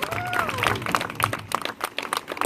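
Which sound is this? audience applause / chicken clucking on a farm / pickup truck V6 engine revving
audience applause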